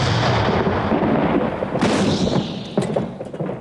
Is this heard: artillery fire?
yes